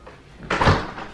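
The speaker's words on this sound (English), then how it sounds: "Let's go out the other door, Soapy." A house door handled near the back fence area: a quiet lead-in, then a sudden close thump and rattle of the door swinging and shutting, fading quickly, with no talking.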